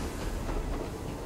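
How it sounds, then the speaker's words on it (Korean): A train in the mobile game Cookie Run: Kingdom rumbles past with a dense, continuous rolling roar and rhythmic clickety-clack of wheels, loud and unbroken, without speech. "오, 열차."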